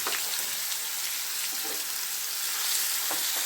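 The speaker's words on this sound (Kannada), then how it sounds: "ಶುಂಠಿ ಬೆಳ್ಳುಳ್ಳಿ ಹಾಕ್ಕೊತಾ ಇದ್ದೀನಿ. ಹಾಗೆ ಈರುಳ್ಳಿ ಹಾಕ್ಕೊತಾ ಇದ್ದೀನಿ." Ginger, garlic and onion frying in a pan for a paneer gravy, giving a steady, close crackling sizzle with a few faint stirring taps and no voices.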